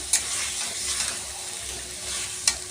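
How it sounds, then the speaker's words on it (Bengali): Meat being sautéed and stirred in a pan for a Bengali curry, a steady close sizzle with scraping spatula strokes and a couple of sharp clinks against the pan, no voices. "আর এই যে মাংসটা এখন বসিয়েছি, ছাতি কুমড়োটা করেছি, মাংসটা এখন কষিয়ে নিচ্ছি"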